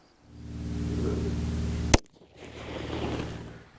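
A single sharp pistol shot cracks out at an outdoor range, fired from a red-dot-equipped handgun at about the 25 mark; a steady low rumbling drone runs before it and a softer noisy wash follows.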